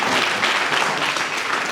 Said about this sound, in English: Can you please clap for me?